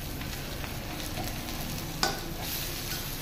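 Spices and dried red chillies are stirred in a kadai for chicken biryani, a steady sizzle running under scraping spatula strokes, with one sharper clink near the end.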